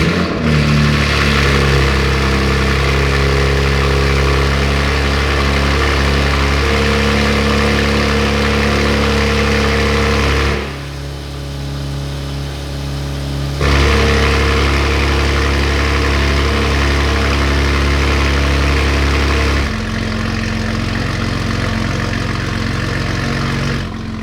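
A BMW G87 M2 fitted with a full titanium exhaust runs steadily near the microphone, a loud, continuous engine drone with a deep low rumble, briefly dropping in level twice before returning to a constant idle-like hum.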